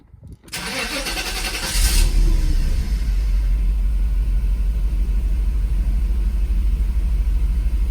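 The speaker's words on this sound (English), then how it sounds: "this is gonna be the first start since plugging in the oxygen sensor" An SL500 car engine, just after its oxygen sensor was plugged back in, cranks and catches, revving briefly before settling into a steady, loud idle rumble that continues to the end.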